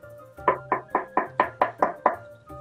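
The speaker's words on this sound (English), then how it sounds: "You go bang on the door." Knocking on a door: eight firm, evenly spaced knocks at a steady rhythm, close and clear against a quiet background, with no talking.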